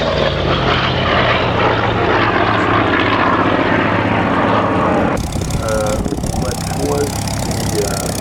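A Hawker Tempest propeller aircraft at the Duxford Flying Legends air show roars loudly and steadily, with a sharp change in tone partway through as it passes. Voices can be heard beneath the engine noise.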